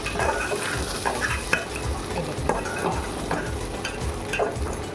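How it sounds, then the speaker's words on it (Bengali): Rice for a vegetarian pulao is stirred and fried in a pan: a continuous close sizzle with rhythmic scraping strokes of a spoon and occasional light clatter of metal. "চালটা আমার কিন্তু ভাজা ভাজা হয়ে গেছে।"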